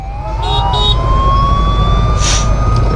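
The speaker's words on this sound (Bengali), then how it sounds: "অ্যাম্বুলেন্স ঢুকেছে আবার।" A siren on an ambulance rises and holds its wail on a road in West Bengal during a motorbike trip, heard continuously over steady engine and wind rumble, with a brief horn-like burst near the end.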